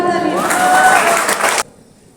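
Loud applause from an audience fills most of the moment, broadband and sustained with a tonal voice or music line drifting through, then cutting off abruptly into near silence.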